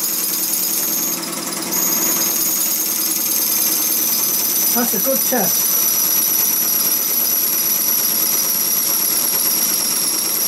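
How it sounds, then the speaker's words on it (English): A scratch-built gauge 1 live steam model locomotive runs on steam with a steady, rapid mechanical chuffing and hissing close by, while a person speaks briefly over it. "Running on steam."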